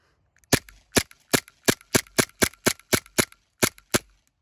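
A gas blowback airsoft pistol fired with a tracer unit gives about a dozen sharp, crisp pops in a quick, fairly even rhythm, close and clear with no talking.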